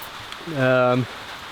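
Steady rain hisses softly around a cyclist riding through a rain cloud in Timor-Leste, a constant wash of patter with a brief voiced, tonal sound rising over it midway.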